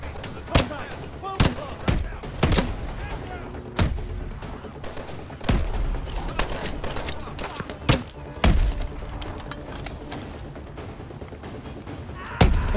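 Gunfire and explosive bursts from the Call of Duty Advanced Warfare video game, with sharp loud shots cracking at irregular intervals over a steady battlefield rumble, some close and punchy, others more distant, with voices faintly mixed underneath.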